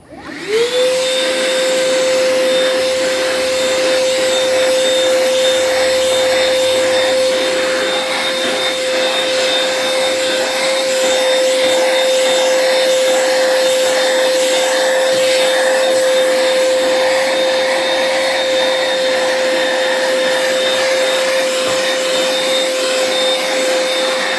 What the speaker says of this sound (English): Any vacuum usually has a hard time with carpet